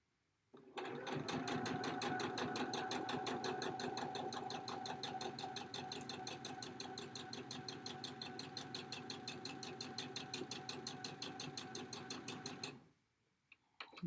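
A quiet sewing machine stitching quilt pieces, running as one steady, evenly pulsing whir for about twelve seconds and then stopping.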